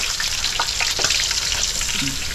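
Milkfish fry in a large amount of hot oil, giving a steady, close crackling sizzle with a few brief louder pops that runs without a break.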